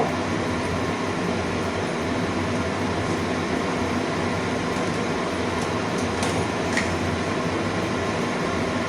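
Okra frying in hot mustard oil in a heated wok, a dense, steady sizzle that stays loud and even throughout, with no voices over it.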